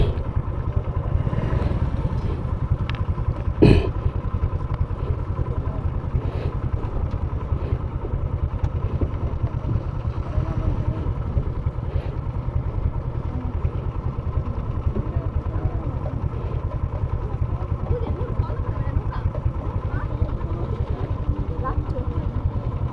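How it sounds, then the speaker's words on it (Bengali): Several motorcycles, including a Honda CD 80, idle together in a queue waiting to board a small boat at Birishiri, Durgapur, making a steady close engine rumble with occasional clatter throughout. "সিরিয়াল দিয়ে দাঁড়িয়ে আছি অনেকগুলো বাইক আছে"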